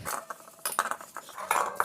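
Dirty plates, pots and utensils being scrubbed and rinsed by hand, with short clinks and scrapes of metal and dishware coming in quick bursts close by, and no talking.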